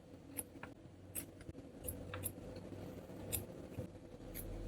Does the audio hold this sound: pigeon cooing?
no